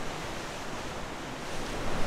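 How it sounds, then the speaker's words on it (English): Atlantic Ocean waves crash and surge against the rocks at Glass Window Bridge, a dense, constant roar of surf building slightly louder toward the end, with wind buffeting the microphone. "These waves form far out in the Atlantic Oceans during storms and come crashing into the bridge like a tsunami."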